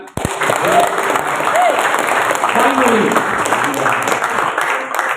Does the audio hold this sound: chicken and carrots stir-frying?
no